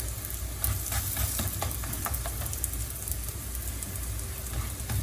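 A layered lachha paratha cooking with ghee on a hot pan, giving a dense, continuous crackling sizzle that stays even and close throughout, with no talking.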